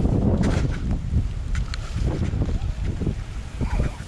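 Steady gusting wind buffets the microphone while bass fishing, with a low rumble and occasional splashy water sounds, continuous throughout.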